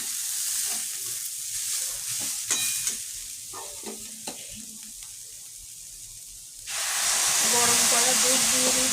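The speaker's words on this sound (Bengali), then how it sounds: "গাজরটা পুরো ভেজে ভেজে সিদ্ধ করে নিয়েছি, ভাজা হয়েও গেছে" Grated carrots for gajar halwa fry and get stirred in a pan: irregular scraping spatula strokes over a steady sizzle, which swells into a loud, dense hiss near the end as more liquid meets the hot pan.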